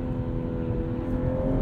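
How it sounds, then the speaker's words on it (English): A 2021 Toyota Supra 3.0 Premium in normal mode gives its natural engine sound, a steady, close, low droning hum with smooth harmonic tones, no added piped-in sound, and no voices. "You put it into regular or normal mode, and you can get the natural engine sound."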